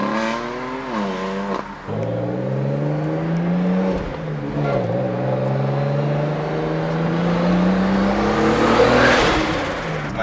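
A BMW E46 turbo car engine with an exhaust pipe removed rumbles nearby, its exhaust note rising and falling as it revs, steady and fairly loud throughout.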